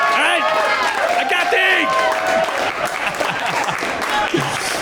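A stand-up comedy club audience breaks into applause and cheering, loud and sustained, while the comedian keeps talking over the crowd noise.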